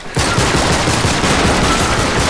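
Sustained rapid gunfire from Uncharted 3 multiplayer, a dense, loud and continuous fusillade of overlapping shots that keeps going without a break after a sudden start.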